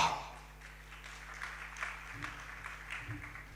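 Faint, scattered clapping from an audience at a sermon, a few soft bursts of hands against a quiet room hum.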